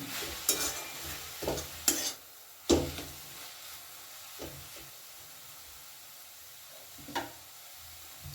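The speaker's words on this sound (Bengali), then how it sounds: "এবার আমি ঢাকাটা খুলে এর মধ্যে মেশাবো একটু চিনি" Sugar gets stirred into a fenugreek (methi) mixture in a pan for methi paratha, with several distinct spoon scrapes and knocks against the pan over a soft, quiet sizzle, close and fairly faint.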